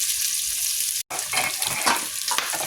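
Meat and sausage frying in a pan for chili fried rice, a loud close sizzle with one short break, then crackling and stirring scrapes.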